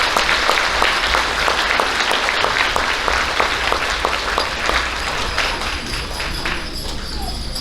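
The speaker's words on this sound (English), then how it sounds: "Please give a large round of applause for these fourth grade students." Applause for fourth grade students at an elementary school awards ceremony, a steady roomful of clapping with distinct individual claps running throughout, fairly close and gradually easing off toward the end.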